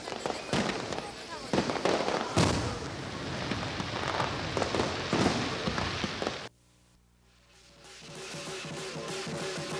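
Fireworks burst over Macau on the eve of the Grand Prix, a dense run of crackling, popping explosions for several seconds before a sudden drop to a quieter, tonal background that swells again, with voices mixed in.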